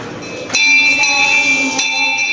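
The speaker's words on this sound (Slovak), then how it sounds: "A tu je aj nejaký zvon." A bell at Palárikovo manor house struck twice, each bright metallic strike ringing on with a long sustained hum that lingers and fades between hits.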